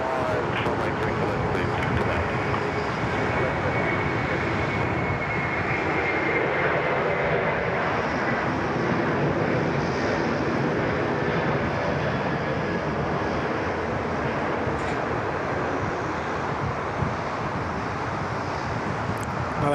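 An Airbus A330 departs Sydney Airport, a steady, broad engine roar that holds for the full length, heard from a distance with a slight rumble.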